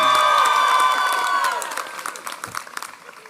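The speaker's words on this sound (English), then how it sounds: "She always gets the biggest cheer." An audience at a 2021 College of Arts and Sciences commencement ceremony cheers loudly with whoops and shouts, then breaks into clapping that thins out and fades over a few seconds.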